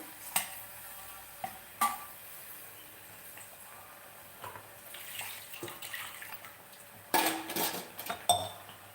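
A spoon stirs frying chukkakura (sorrel greens) curry in a pan, giving quiet scraping and a few sharp metallic clinks at irregular intervals over a faint sizzle.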